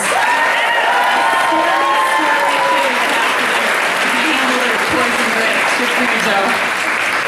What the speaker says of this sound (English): just quick round of applause for Joe